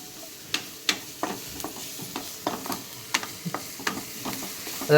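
Onion fries in a pan for an egg omelette, a low sizzle under sharp scraping stir clicks repeating at a steady, close pace.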